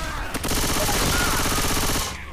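Rapid automatic gunfire in the Left 4 Dead 2 video game: a single shot, then a sustained burst of fast, evenly spaced rounds lasting about a second and a half, loud and close, that stops abruptly.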